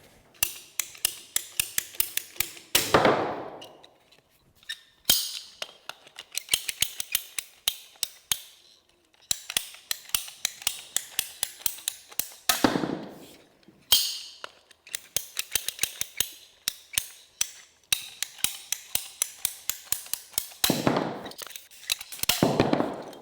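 A ratcheting PVC pipe cutter cuts through PVC pipe. Rapid clicking bursts from the ratchet are followed each time by a louder crunching snap as the blade finishes the cut, repeated several times close up with no talking.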